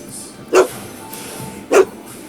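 Two short, sharp dog barks spaced about a second apart in the Back to the Future video game, fairly close and standing out over a quiet background.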